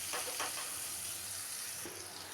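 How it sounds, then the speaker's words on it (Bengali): Spice paste thinned with water fries and is stirred with vegetables for a Bengali rohu fish curry, a loud, dense, continuous sizzle close by with brief stirring scrapes early on and no talking. "এখন আমি সেই মশলার যে গুলে রেখেছি সেই মশলার জলটা দিয়ে দিলাম, দিয়ে আরেকটু কষিয়ে নেব মশলাটাকে।"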